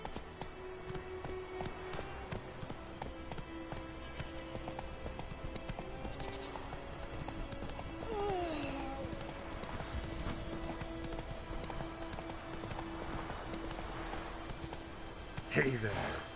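Roach, Geralt's horse in the video game The Witcher III, trots with rhythmic clip-clop hoofbeats under continuous game music and ambience, with a voice speaking briefly and a sharper sound near the end.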